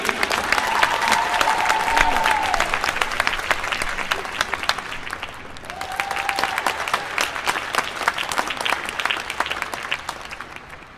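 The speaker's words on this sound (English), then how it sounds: "Another big round of applause for Ria, everybody." Sustained audience applause following a singing performance at a wellness summit, dense and steady for about eleven seconds, dipping briefly near the middle and then swelling again, with faint voices in the crowd.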